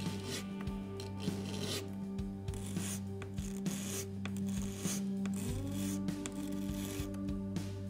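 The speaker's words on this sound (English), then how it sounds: "Let's start with 220 grit sandpaper to remove the excess material on the sides." A guitar TUSQ nut is rubbed on 220 grit sandpaper for a Telecaster setup, giving a steady run of close, rasping strokes over a constant low hum.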